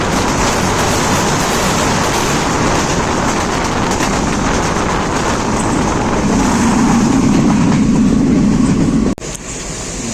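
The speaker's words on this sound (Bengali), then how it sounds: "এখানে 2 মিনিটের বিরতি দিল, তারপর আমাদের ট্রেন ছেড়ে দিল" Padma Express, a passenger train running from Dhaka to Rajshahi, rolls along the rails after leaving M Monsur Ali station, a loud, steady rumble of wheels and carriages that swells toward the end.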